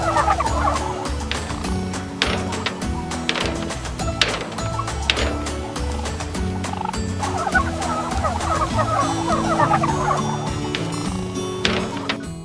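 Many turkeys gobbling at once in a packed barn at night during harvest, a dense, loud, continuous chorus of overlapping gobbles and clucks with occasional knocks, no talk.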